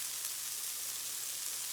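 Butter burger patties fry on a hot griddle, giving a faint, steady sizzling hiss throughout with no talking.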